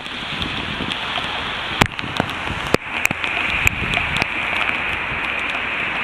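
Rain falls steadily during bicycle camping, a dense close hiss on the surface around the tent, broken by a few sharper drips and taps.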